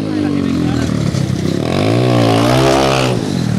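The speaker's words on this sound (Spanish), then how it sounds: "vamos a dejarlo con el sonido de la moto" A motorcycle engine revs up and down loudly and close by at a motorcycle fair, its pitch rising and falling over a few seconds, with a voice faintly underneath.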